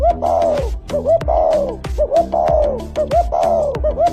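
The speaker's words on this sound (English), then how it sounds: "This is a spotted dove." A spotted dove coos nearby in a steady repeating rhythm. Each phrase is a soft, hollow cooing call that comes about once a second.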